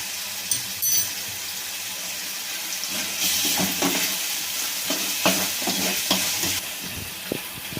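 Onion and tomato frying in a pan for a samosa filling, a continuous sizzle with irregular stirring scrapes and clinks against the pan. The sound is close and heard alone, without talk.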